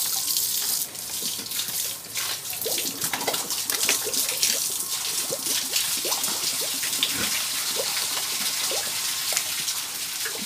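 Water runs steadily from a tap or hose into an animal drinking container on a farm, a constant splashing rush with occasional bubbling and dripping, close and uninterrupted throughout.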